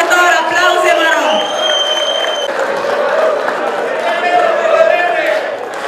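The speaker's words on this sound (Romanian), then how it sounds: "aplauze, vă rog!" A large crowd applauds and cheers loudly and steadily, with whoops and shouts rising above the continuous clapping.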